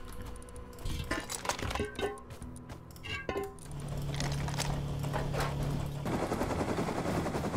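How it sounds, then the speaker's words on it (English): Bursts of gunfire from the survival video game Rust, with a rapid cluster of sharp shots early on followed by a steady low hum for the rest of the moment. "Two dudes shooting at me."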